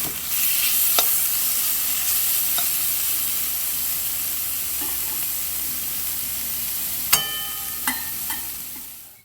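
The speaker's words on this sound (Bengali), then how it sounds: "নিয়ে জল একদম বের করে এবার হালকা তেল দিয়ে কড়াইতে ভেজে নেব" Cleaned, squeezed-dry mushrooms fry in a little oil in a wok, a steady close sizzle throughout with a few sharp clinks of a utensil stirring near the end.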